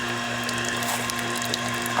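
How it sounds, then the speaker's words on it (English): A tomato puree machine processing cooked tomatoes hums steadily with a low motor drone and continuous mechanical rattling of gears, close and unbroken throughout. "So this is the machine that we use to make the tomato puree."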